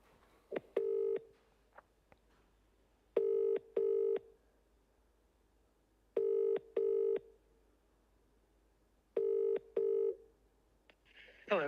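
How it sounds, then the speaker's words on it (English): Outgoing phone call ringing out, a UK-style double ring repeated three times at steady intervals with quiet gaps between, clear and near, a faint noise at the end and no talking over it. "So I'm going to ring Kevin again"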